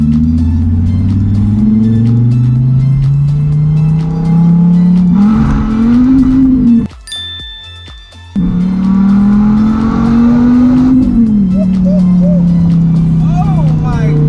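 A straight-piped Dodge Viper revs hard through its gears, a loud raw engine note climbing in pitch, cutting out briefly at a shift around the middle, then pulling up again. Voices talk faintly over the engine.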